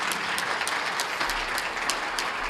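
At a chamber of commerce awards ceremony, the audience gives a group a round of applause: sustained, fairly loud clapping from a room full of people, with a few sharper individual claps standing out.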